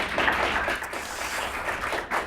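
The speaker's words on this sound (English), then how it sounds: "let's give her a big round of applause" An audience claps for a volunteer called up on stage at a magic show, a short burst of dense applause with no talk.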